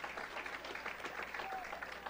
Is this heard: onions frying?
no